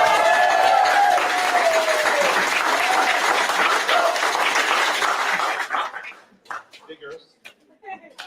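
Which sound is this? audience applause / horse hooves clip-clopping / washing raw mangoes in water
audience applause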